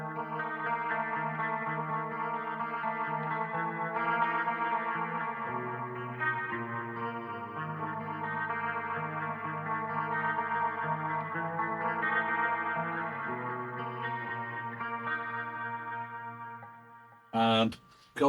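A Reverend Arundel electric guitar played on its bridge pickup through distortion, chorus and echo effects, a sustained chordal riff ringing steadily at even volume before a brief burst of noise at the end.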